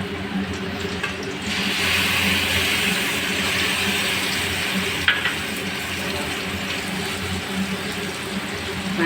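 Water is poured into a hot pan of mustard fish curry on a home stove, giving a continuous hissing splash and sizzle. A few faint clinks sound partway through.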